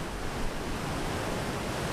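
Solstice Falls in Southern Ontario, swollen by spring flooding, sends a dense, steady roar of rushing water, loud and unbroken across the whole moment.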